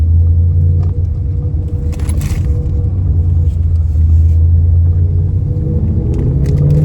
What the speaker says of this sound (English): So, we'll do a little U-turn right here real quick, just to see something. See if there's any rubbing.